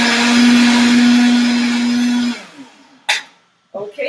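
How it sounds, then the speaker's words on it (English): A Vitamix blender grinding nut milk ingredients whirs loudly with a steady motor drone for about two seconds, then winds down to quiet, followed by a couple of short clunks. "I have a Vitamix blender, which I absolutely swear by and highly recommend"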